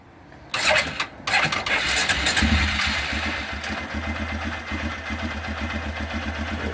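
A cold engine cranks briefly, stops, then fires and settles into a steady, close, loud idle with a rhythmic low rumble that continues to the end.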